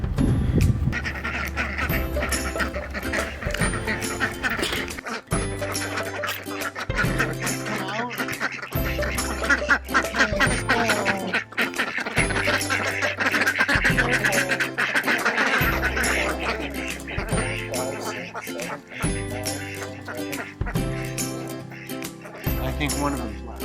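Homestead ducks raised for egg production quack repeatedly in a fairly close, busy chorus, mixed with honking calls, while a steady rhythmic musical backing plays throughout.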